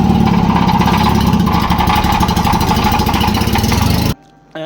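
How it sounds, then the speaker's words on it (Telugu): A Tata Nano car engine with a broken silencer roars loudly and raggedly at close range, a harsh, rattling exhaust drone that runs steadily for about four seconds before cutting off abruptly. "సో ఇంకా బట్ మధ్యలో వాడి సైలెన్సర్ మాత్రం హ్యాండ్ ఇచ్చేసింది. ఘోరంగా సౌండ్ వచ్చింది."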